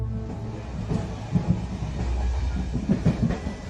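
A train runs along its track with a rumbling, low clickety-clack, rhythmic wheel knocks repeating at a moderate distance under a constant roll, used as a sound effect in a Bengali horror audio story.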